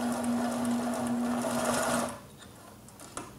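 An HDSew PortaWalker walking-foot sewing machine runs with a steady, close mechanical hum and rapid stitching for about two seconds, then stops. A light click follows in the quiet afterward.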